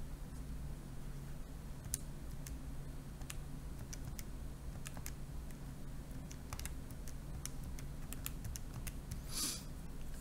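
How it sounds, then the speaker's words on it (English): Fingers tap numbers into a calculator, a faint scatter of light plastic key clicks at irregular intervals over quiet room noise, with a quicker burst toward the end. "So if I type that in my calculator,"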